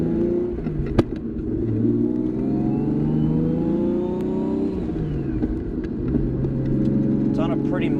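A 1999 Nissan Skyline GT-R R34 V-Spec on a mild tune of about 600 horsepower revs up and settles back, its engine note rising and falling loudly and close by. A voice can be heard faintly in the background.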